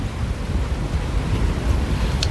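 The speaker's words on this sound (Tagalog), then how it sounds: "ang lakas ng hangin" Strong wind buffets the microphone at Puting Buhangin Beach in San Juan, Batangas, a steady low roar close up, with surf rumbling underneath and no talking.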